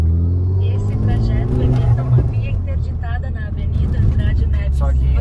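A VW Jetta TSI with a 3-inch stainless steel exhaust rumbles in a low, steady drone nearby, while people talk over it.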